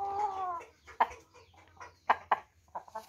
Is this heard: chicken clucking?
yes